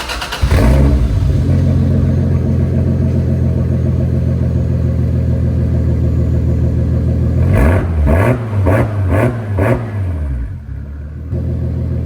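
A 2JZ-GTE engine in a 300ZX, idling with a deep steady rumble through a 3-inch exhaust, then snapped through several quick revs in a row before settling back down.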